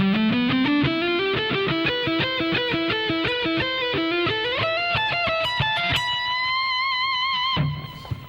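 A distorted electric guitar plays a lick at a slow tempo, a steady stream of evenly picked, sustained notes stepping up and down before a final held note fades out, loud and alone with no talking.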